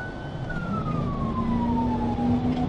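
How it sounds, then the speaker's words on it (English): A police emergency siren wails steadily during a motorcycle pursuit at high speed, loud and close over road and engine noise. "then initiated my emergency siren"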